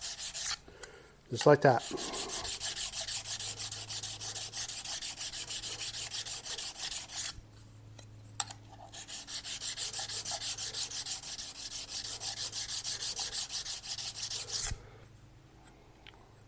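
A hand file is worked back and forth across the faces of a scraper to sharpen it, giving a steady rasping scrape in two long runs split by a short pause, with a brief spoken remark near the start.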